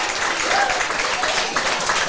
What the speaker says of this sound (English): I think that applause is coming from the Hobart United fans